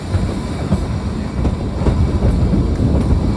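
A diesel-hauled narrow-gauge toy train on the Kalka–Shimla line pulls out of a station in the rain, giving a loud, close, continuous rumble with rhythmic wheel clatter and no talk.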